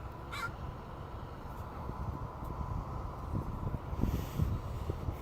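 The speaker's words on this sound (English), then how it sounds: "Crow is back." One short crow caw near the start, then steady outdoor rumble with soft rustling and no further calls.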